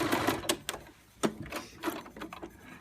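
A sewing machine stitching an apron seam in a home sewing class, giving short, quiet bursts of rapid mechanical whirring separated by pauses, close by and faint.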